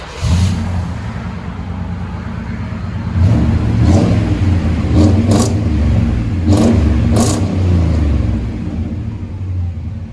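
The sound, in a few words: GMC Sierra 1500 V8 revving with Magnaflow dual exhaust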